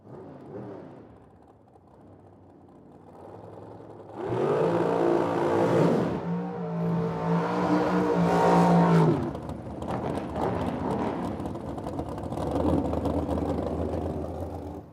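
Drag race cars launch hard down the strip at a Medicine Hat, Alberta summer drag meet, a loud engine roar with rising harmonics swelling after a quieter buildup, then fading into broad crowd-like noise and more revving.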